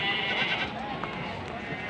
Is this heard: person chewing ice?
no